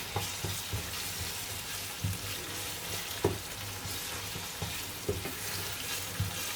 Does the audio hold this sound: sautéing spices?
yes